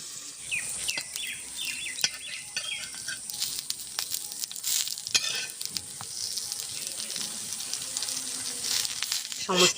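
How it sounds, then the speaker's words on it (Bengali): Fish-roe paturi wrapped in pumpkin leaves fries in a pan, giving a steady sizzle with sharp crackles and spatter; faint chirping birds sound in the background and a voice is briefly heard. "পাতুরিগুলি আমার ভাজা হয়ে গেল"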